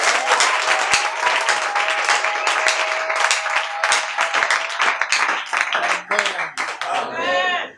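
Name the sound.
church congregation applauding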